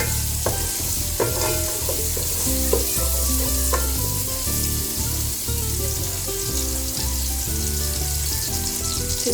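Garlic is stirred while it fries in a pan, a loud continuous sizzle under frequent scraping and knocking of a utensil, with some low rumbling underneath and no speech.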